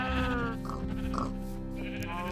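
A cow being killed in the Minecraft video game, heard as a few loud bleating, lowing animal calls with strong harmonic tones over about two seconds, alone without speech.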